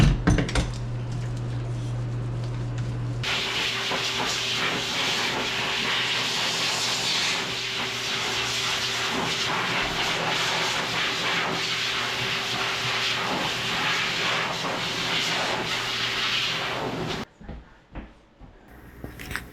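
Running water rinses conditioner off a Yorkie in a grooming tub, a steady close hissing spray lasting about fourteen seconds after a brief lower hum, then cutting off into small splashes and drips.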